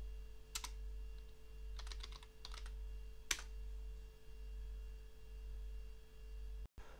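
Quiet bursts of keystrokes on a computer keyboard as Linux commands are entered, a few quick clusters of taps separated by pauses over a constant low electrical hum.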